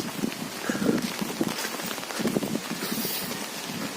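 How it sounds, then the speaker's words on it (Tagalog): Heavy rain pours steadily onto surfaces outdoors, a dense continuous hiss with scattered nearer drops, close and fairly loud with no talking. "Naulan, no? Lakas na, no?"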